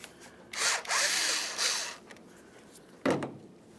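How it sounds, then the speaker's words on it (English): Loosening the 10mm nut on the negative battery terminal of a 2009-2019 Ford Flex: a few short, close scraping ratchet-like bursts of turning metal, separated by quiet gaps, with no talking. "To do that, we'll loosen this 10mm mounting nut."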